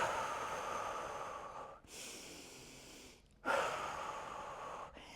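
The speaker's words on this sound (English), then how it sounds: "So a couple big deep breaths in." Deep breaths during a stretch in a legs and core workout: two long, airy inhales and exhales, close to the mic and separated by short pauses of near silence.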